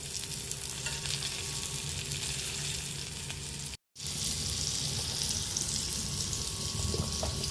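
Fish fries in hot oil after being turned, a steady, fairly faint sizzle that cuts out for a moment midway and then resumes.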